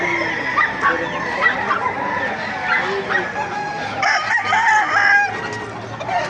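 Roosters crowing and hens clucking at a busy chicken market in Baliuag, several birds calling over one another close by while people talk in the background.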